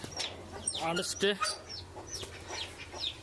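Hens clucking at close range on a small farm, a few short overlapping calls and squawks over steady low background hum, with brief louder bursts.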